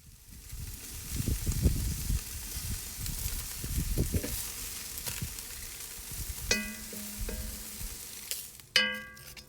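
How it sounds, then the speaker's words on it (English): Chicken goes into a Dutch oven set on a grill, sizzling and crackling up close, with clattering and a few metallic clinks and scrapes of the pot in the last seconds. "Now we're going to add the chicken to the Dutch oven."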